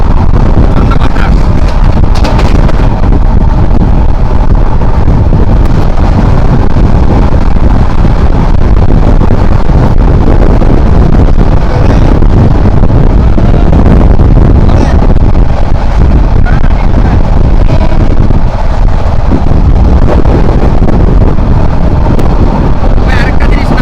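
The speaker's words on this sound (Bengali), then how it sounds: "ঠান্ডা বাতাস।" Cold wind blows across open hilly ground beside a railway line, roaring and buffeting loudly and continuously against the microphone for the whole stretch, with no let-up.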